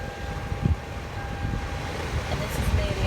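Toyota Camry cabin blower motor running on its low setting after replacement, a steady low airy hum with a faint constant tone, soft and even throughout.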